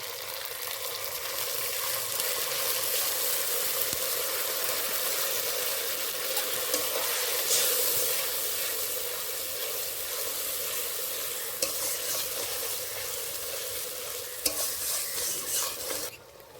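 Ground dry chilli and cumin pastes sizzle in a pan as they are stirred, a loud, continuous hiss broken by a few sharper scrapes. The sizzling stays even throughout, with water added to the spice mix.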